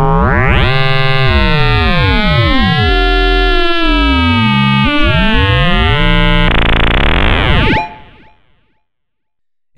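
An Arturia MiniBrute 2 synthesizer plays a loud frequency-modulated tone, one voice modulating another for inharmonic, complex timbres, sweeping and warbling with swooping pitch bends for about eight seconds before cutting off into silence.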